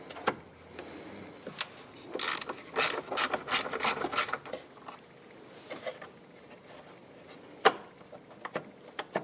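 A ratchet with an extension loosening the battery hold-down bolt on a 2013 Chevy Malibu, with bursts of rapid clicking ratchet strokes, then quieter handling taps and clunks, close up with no talk.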